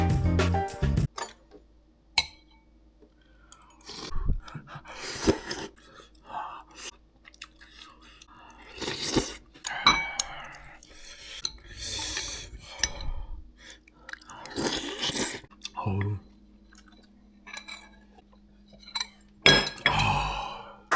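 Someone eats Korean seaweed soup with cutlery, with scattered clinks of spoon against dish and soft chewing in a quiet room, brief close taps spread irregularly over the span.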